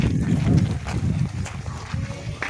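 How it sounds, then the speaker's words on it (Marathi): A horse walks along a rural road in a steady clip-clop of hooves, moderately close, with outdoor background noise and no clear talk. "मित्रांनो आलेला आहे इथं आपला घोडा बघा"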